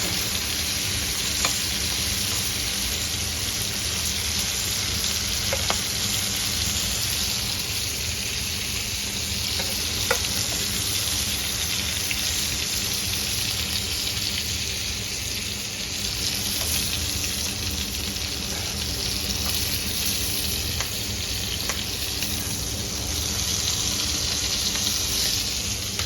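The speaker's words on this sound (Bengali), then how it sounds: "চিংড়িগুলো ভাজা হয়ে গেছে" Shrimp frying in hot oil for a chingri malai curry, a loud, continuous sizzle with faint clinks of stirring and no talking.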